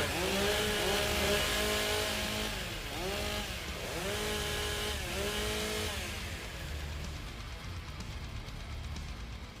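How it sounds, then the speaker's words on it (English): Several chainsaws idle and rev together before a STIHL Timbersports women's championship race, loud and continuous with rising and falling engine pitch sweeps, then settling into a steadier drone. "Warm up your saws."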